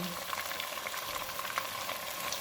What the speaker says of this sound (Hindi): चूल्हे को फुल रखेंगे और इसको 4 से 5 मिनट तक भूनेंगे।